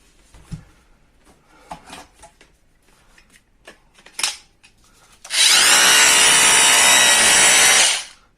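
Some handling clicks and rattles, then a cordless hammer drill in combined hammer and drill mode roars to life close by, running loudly and steadily for about three seconds before stopping.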